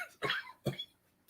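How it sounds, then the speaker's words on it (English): A person has a short coughing fit at a fishing lure show, with two sharp, close coughs followed by quieter trailing breaths. "Coughing fit."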